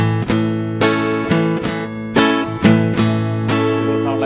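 An acoustic guitar strums full barre chords in a rhythmic pattern, with short percussive muted strokes between the ringing downstrokes, close and clear.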